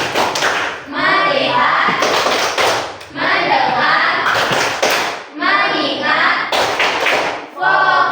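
Teacher and children in an Indonesian classroom perform a rhythmic 'tepuk fokus' clapping routine: short bursts of sharp claps alternate with loud chanted group speech, repeating several times.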